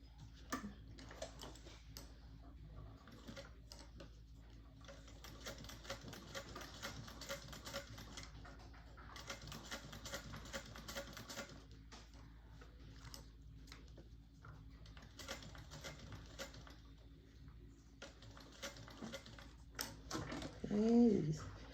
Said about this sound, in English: So I'm going to go top stitch around 1/8 of an inch.